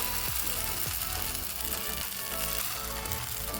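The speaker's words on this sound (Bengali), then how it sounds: "ফাইন প্যানটাকে ভালোভাবে গরম করে নিয়ে আমি এখন ব্যাটারটাকে দিয়ে দেব একটা হাতার সাহায্যে" Biulir dal batter sizzles in a hot pan greased with white oil, a loud, constant crackling fry with faint scraping taps from a ladle spreading it.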